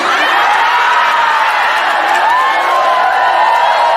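A large crowd at an Islamic boarding school sermon cheers and shouts loudly and continuously, a dense, sustained roar of many voices with scattered whoops.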